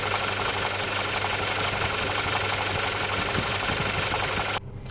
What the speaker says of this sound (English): A lot of the time you'd hear ticking coming from the injectors